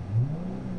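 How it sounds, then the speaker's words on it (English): A short engine rev, a low throaty rise and fall lasting under a second, fairly close. "Going zero, but we revving."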